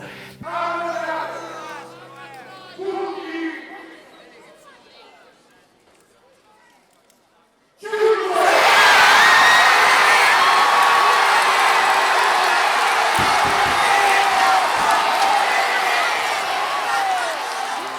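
Crowd at the Saracen Joust in Arezzo, a loud, dense mass of shouting and cheering that erupts suddenly after a few seconds of faint talk and holds steadily to the end.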